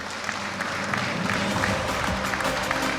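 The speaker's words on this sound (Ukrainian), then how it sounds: "Зустрічайте оплесками." Audience applause fills a hall at an award ceremony for a special prize, a sustained, even round of clapping from a sizable crowd that holds steady for several seconds.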